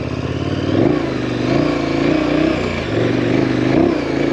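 A KTM 1090 Adventure motorcycle on the road, its loud engine droning steadily close up with rising and falling pitch as the rider works the throttle, wind rushing underneath throughout.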